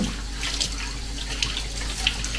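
Water runs steadily from a kitchen tap while dishes are washed with an eco detergent in a sink, a constant close hiss with faint clinks and splashes and no talking.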